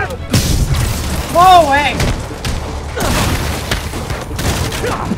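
Gunfire aimed at Spider-Man in the Marvel's Spider-Man video game, heavy booming shots and bursts mixed with game sound effects, loud and close, while a person exclaims over it.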